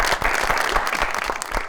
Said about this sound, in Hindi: बहुत सारी तालियां वहाज साहब के लिए जी।